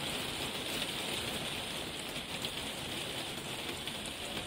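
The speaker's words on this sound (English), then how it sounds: "Well, it hasn't stopped raining." Rain falling steadily outdoors, a dense, even hiss of drops on surfaces, constant and fairly close with no voices.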